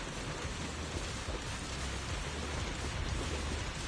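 Steady rain in the video game Zenless Zone Zero, a dense, even wash of falling water under a dark sky, holding at a constant moderate level throughout with no voices.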